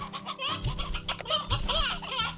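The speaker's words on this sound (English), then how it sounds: "we'll put the rooster and the stony hens in" In the Slime Rancher video game, a rooster and stony hens cluck in quick, busy bursts of close, overlapping clucks, with no talk.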